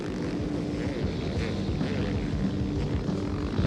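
A Kawasaki racing motorcycle runs on the gas during a steel-shoe ice endurance race, its engine droning steadily with a continuous buzzing, mid-distance roar and no pauses.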